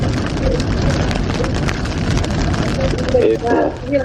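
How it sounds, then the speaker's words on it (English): Rain drumming steadily on a car while it is driven into a storm in Alabama, a dense, constant roar of close rainfall. People talk over it. "Slowly starting to get rain now."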